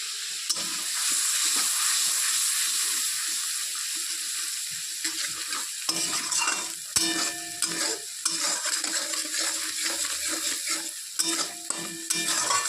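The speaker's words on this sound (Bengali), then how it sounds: "মশলাটাকে ভালো করে কষাতে হবে একদম ভাজা ভাজা করতে হবে" Turmeric and chilli spice paste frying in a pan for a fish curry, a loud close sizzle with bursts of hissing and spatter, broken by repeated scraping and stirring strokes against the pan.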